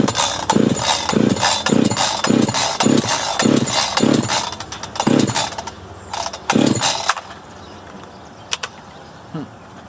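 An Echo CS-590 Timberwolf chainsaw is pull-started on choke, with a loud, rhythmic series of rapid cord-pull bursts that sputter without the engine catching, then quieter handling noise.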